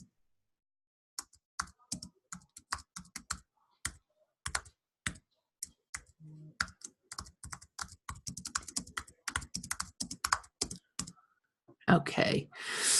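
Steady bursts of typing on a computer keyboard, close and crisp, with irregular runs of clicks and short pauses, ending in a louder rustle.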